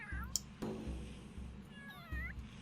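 Cat vocalizations from a Sims 3 kitten playing in a warrior-cats clan, with rising meow-like calls and hissy bursts over a low rumbling background, moderately loud, without speech.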